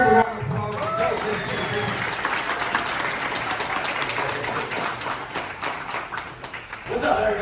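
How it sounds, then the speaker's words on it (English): Audience at a barber expo breaks into a sustained round of applause, dense clapping filling the room for several seconds with crowd noise and voices mixed in. "Y'all give him a round of applause."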